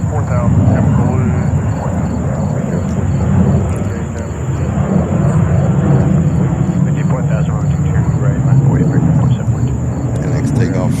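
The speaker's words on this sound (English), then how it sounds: "The next takeoff is another JetBlue." A JetBlue airliner takes off at JFK airport in New York, a loud, steady jet engine roar that holds from start to finish with a broad rumbling body.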